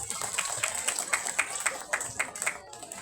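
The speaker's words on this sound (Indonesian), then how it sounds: "Tepuk tangan." An audience at a Sundanese Maulid Nabi religious lecture claps in a fairly even, rhythmic pattern for about three seconds under a thin high electronic whine, with some faint voices around.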